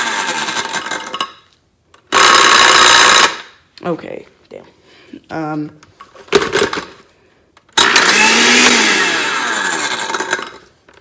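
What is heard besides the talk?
blender blending a phone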